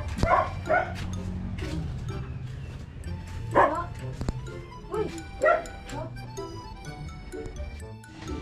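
Thin dog barking, yipping and whimpering in short repeated bursts at close range, with people talking in the background between the barks.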